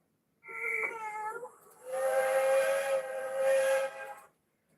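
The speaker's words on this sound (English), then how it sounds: "Oh, yes, that was Christopher's whistle." A steam locomotive whistle sounds twice at a railway museum, a short harmonic toot followed by a longer sustained hissing blast, clear and fairly near.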